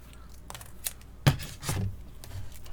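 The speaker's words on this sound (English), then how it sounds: "now you're going to kind of have to piece out, cut those to shape" Paper roof shingles being snipped to shape with scissors for a miniature fairy house roof, a few short close cuts with light rustling between them, no talking.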